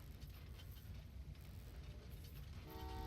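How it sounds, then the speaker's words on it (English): Trains in the video game Train Valley 2 rumble along under a soft, steady mechanical clatter, with a short horn-like tone near the end, all heard quietly and at a distance. "Let's send some more passenger trains into here as well."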